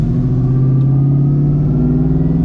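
A supercharged 1997 Mustang Cobra engine idles with its blower belt turning on the pulley, a loud, steady droning rumble with a faint whine layered on top and no voices.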